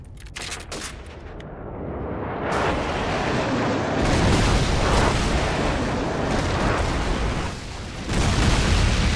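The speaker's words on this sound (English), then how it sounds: "Friendly airstrike on the way." Airstrike explosions in Call of Duty 4 multiplayer roll in as a dense barrage of loud booms and crackling blasts, building and staying intense with fresh impacts toward the end.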